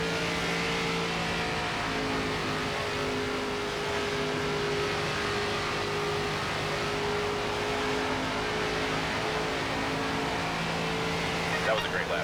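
Race car engine droning through a lap at Rockingham in NASCAR 25, a steady sustained engine tone with slight pitch shifts throughout, under continuous background noise.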